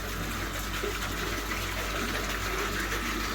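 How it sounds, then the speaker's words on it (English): Steady water flow through an aquarium filter with bio pads and the air pump switched off, a constant close gushing, trickling wash without pauses and no voices. "And you can see the water flow in there now."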